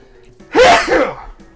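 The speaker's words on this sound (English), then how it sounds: "Nasty sneeze." A single loud, close sneeze bursts out in two quick parts, then quiet.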